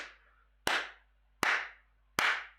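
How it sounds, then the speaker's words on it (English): Three sharp, separate hand claps, evenly spaced about a second apart, close and crisp with a brief ring after each. "Clap."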